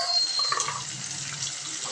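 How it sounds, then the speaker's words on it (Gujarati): Water poured into a pan of frying masala (coriander-cumin powder and garlic chutney) while cooking Rajvadi dhokli shaak, with a steady hiss and splash lasting throughout, close and moderately loud. "અને થોડુંક પાણી એડ કરીશું જેથી મસાલો બળી ના જાય"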